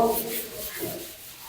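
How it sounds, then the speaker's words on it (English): A worker sands a skim-coated wall inside a house under construction, making soft, rhythmic rubbing strokes that sound faint and close. "And he's sanding."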